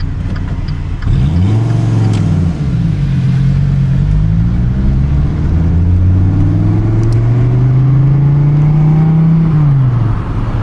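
A Dodge Viper engine revs hard and loud, its pitch climbing and dipping in sweeping rises throughout, close up and continuous.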